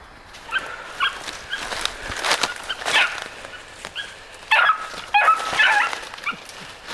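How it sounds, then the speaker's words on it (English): Four-month-old beagle puppies in field training bark and yip outdoors at a moderate distance, sounding in scattered bursts of high-pitched yelps and baying over quiet background. "she was yipping. Oh! There he's barking."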